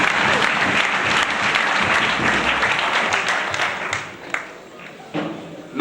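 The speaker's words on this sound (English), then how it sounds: "Let's give him a round of applause" A crowd applauding at a teacher recognition and award ceremony, with full, close clapping that stays strong, then breaks into a few sparser claps near the end, with some voices mixed in.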